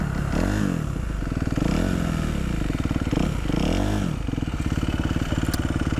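A dirt bike ridden along an abandoned dirt road, its engine buzzing loud and close throughout with rhythmic rises and falls in revs, plus some clattering from the rough ground.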